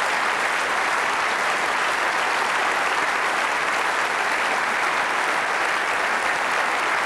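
Sustained, steady applause from a large television studio audience at a 1995 BBC sports awards evening, dense and continuous clapping filling the whole stretch at an even level without a break.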